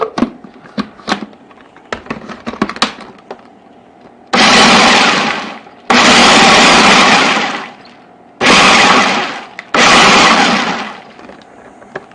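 A blender chops sticky dates for Christmas cookies in four loud roaring bursts of a couple of seconds each, preceded by clattering clicks and knocks, with no talk over the whirring.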